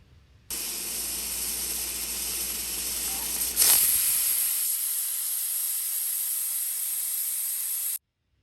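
A pressure cooker whistles while cooking dal with garlic, letting out a loud, sustained hiss of escaping steam that swells partway through, then cuts off abruptly at the end.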